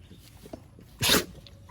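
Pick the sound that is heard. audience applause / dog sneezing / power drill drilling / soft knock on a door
dog sneezing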